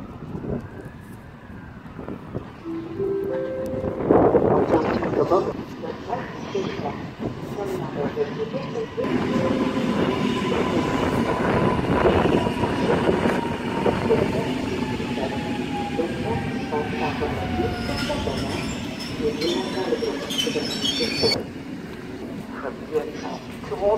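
Two coupled EN57AKM electric multiple units rolling through Warszawa Zachodnia station, with steady rumbling wheels, clacking rail joints and wind across the microphone while station announcements play.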